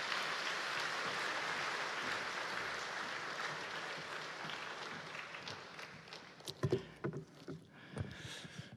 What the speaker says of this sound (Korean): 김바나바 목사님 나오실 때 한번 큰 박수로 환영하겠습니다.